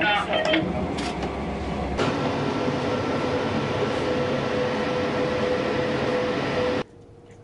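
A new Rome Metro Line C train rumbles steadily at close range with a constant low hum and a faint whining tone, then the noise drops abruptly near the end.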